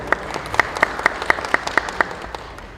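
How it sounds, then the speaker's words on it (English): Sparse audience clapping at the Matric Awards 2021 ceremony, individual sharp claps standing out in an irregular rhythm, moderately close, with no talk over it. "Let's give him a round of applause."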